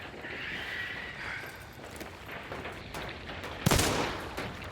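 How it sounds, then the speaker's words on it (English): Gunfire rings out in the first-person shooter Hunt: Showdown, with a single sharp, loud shot standing out near the end above a steady background of game ambience and distant crackling. "Take a shot at him there."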